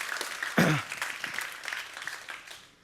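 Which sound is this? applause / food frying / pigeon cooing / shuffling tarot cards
applause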